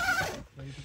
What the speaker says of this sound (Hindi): कुत्ता बाहर भौंक रहा है